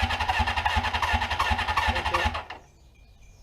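A Suzuki GS550 rat bike motorcycle engine cranks and fires on the starter with the clutch held, running in a rapid rough pulse for about two seconds before cutting out abruptly; a brief spoken word is heard.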